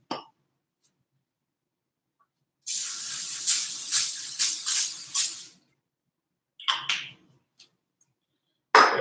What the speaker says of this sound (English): Then we're gonna spray it in this large baking dish we have.